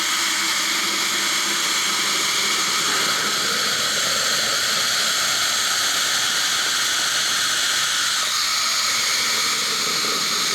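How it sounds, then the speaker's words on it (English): Water from a hose rushes steadily through the engine of a Ford Econoline E350/E450 van during a coolant flush, a constant loud hissing gush with no break from start to finish. "I just run water through the engine, just get it all out."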